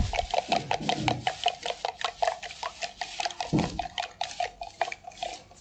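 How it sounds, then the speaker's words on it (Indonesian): Eggs beaten loose with a fork in a bowl, a fast, steady run of close, bright metallic clicks and taps against the bowl, with a couple of louder knocks, no talking. "Kemudian kita kocok lepas dengan menggunakan garpu"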